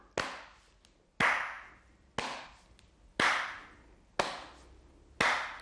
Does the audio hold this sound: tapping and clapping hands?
yes